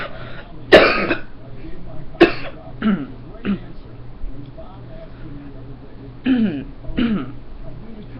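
Several harsh, loud coughs and throat clearings from a single nearby person, coming in bursts spread across the stretch with quieter pauses between them.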